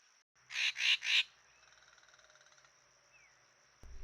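Wild birds at a small rocky forest pool in a Thai nature park, including treepies and a hair-crested drongo, give three loud harsh squawks in quick succession, then faint chirps and a soft rhythmic ticking.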